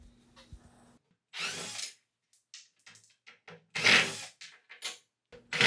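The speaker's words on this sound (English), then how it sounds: "I removed the hinge, which kept the box lid up when it was opened." A power drill whirs in short close bursts while backing screws from a hinge on the lid of a wooden cedar blanket box, with scraping and handling noises between runs.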